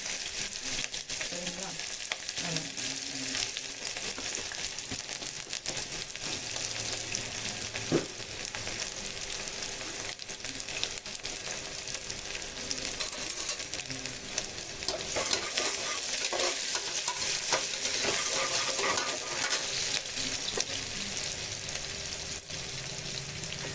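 Onion frying in oil as a tempering: a continuous, even sizzle close by, with occasional stirring scrapes and faint background clatter, steady throughout with no talk.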